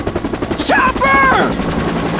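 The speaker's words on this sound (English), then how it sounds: "Chopper!" A helicopter arrives amid rapid gunfire in the video game Left 4 Dead. The steady rotor beat and dense shots run under loud shouted speech.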